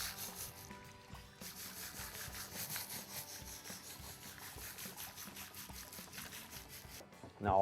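A knife saws straight through a trout or salmon to cut it into steaks, a steady rubbing, rasping stroke repeated over several seconds at close range with no talking.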